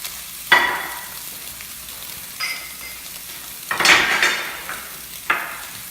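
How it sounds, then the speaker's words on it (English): Scallops pan searing in hot oil give bursts of sizzling that flare at a few moments and settle back, with brief pan and utensil clinks in between. "while our scallops are pan searing"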